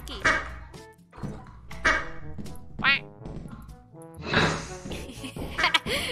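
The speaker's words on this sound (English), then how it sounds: "Rubber ducky!" Squeaky rubber ducky quacks in a horror video game, a few short honking squeaks heard close and loud amid lively talk from players.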